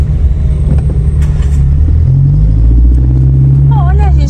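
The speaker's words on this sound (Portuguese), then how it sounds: "É engarrafamento de pessoas, de carro, de tudo que vocês imaginarem" A dense Portuguese street traffic jam of cars, with a steady low engine rumble and vehicle noise throughout, and a voice speaking near the end.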